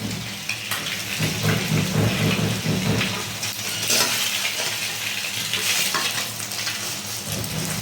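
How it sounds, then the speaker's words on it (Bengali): An egg fries in oil in a pan for a Bengali dim posto dish, a steady close sizzle and crackle running throughout with occasional stirring scrapes, no voices. "আরও একটি ডিম আপনারা ভাজি করার জন্য দিয়ে দেবেন"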